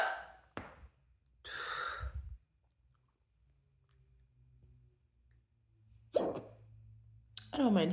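Loud, abrupt hiccups from a person, a handful of sharp gulping bursts spaced by quiet stretches, with breathy gasps and sighs between them, close to the mic.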